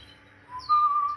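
Canaries in a breeder's aviary give a short, bright whistled chirp that rises in the second half, fairly faint against quiet background.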